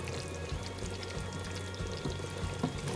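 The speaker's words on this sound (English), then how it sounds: "I'm going to add some pasta sauce to it." Pasta sauce pouring into a pan on a lowered heat, a soft, steady glugging pour with faint sizzle, close and alone without speech.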